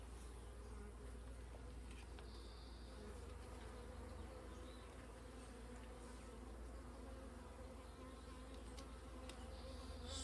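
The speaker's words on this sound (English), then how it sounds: "Sorry bees, calm down, it's okay, it's okay" Honeybees buzzing in an opened hive during queen-making work, a dense steady hum, faint and continuous, with no voices.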